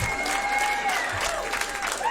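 Stand-up comedy club audience applauding, a dense steady wash of clapping from a crowd filling the room, fairly loud and continuous for a couple of seconds.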